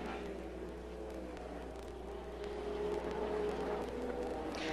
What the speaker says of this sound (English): As these three cars head around turn 1 and up over the hill